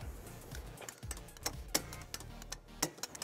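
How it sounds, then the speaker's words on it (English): Bolts on a 2019 Hyundai Kona trailer hitch being tightened and torqued with an 11/16 socket, producing quiet ratchet clicks and sharp metallic ticks in irregular bursts. "we're going to tighten and torque all of our bolts to the manufacturer specifications"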